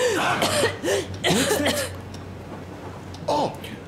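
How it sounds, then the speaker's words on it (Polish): A woman coughs in short rough bursts in the game Metro Exodus, with a couple of harsh coughs early, a pause, then another fit near the end, close and fairly loud over a low steady rumble. "What's that cough?"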